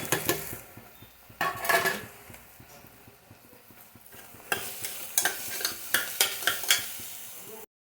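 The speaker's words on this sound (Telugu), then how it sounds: "ఆనియన్స్ అయినది బాగా డీప్ ఫ్రై అయ్యేయండి" Onions deep frying in a pressure cooker, a bubbling sizzle under repeated bursts of scraping and clanking as a ladle stirs against the metal pot, close and fairly loud, with no voices.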